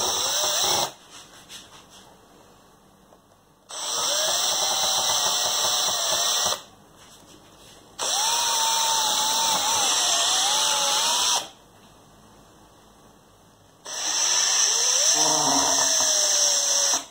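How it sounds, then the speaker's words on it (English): A power drill fitted with a 6mm bit bores through a model aircraft wing in three loud whirring bursts, each rising in pitch as it spins up, with quiet pauses between them. "small drill bit, and very carefully drill through your wing, trying to keep it straight."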